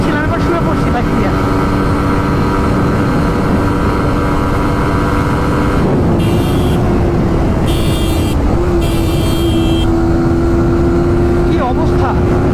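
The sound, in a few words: Suzuki GSX-R motorcycle riding at speed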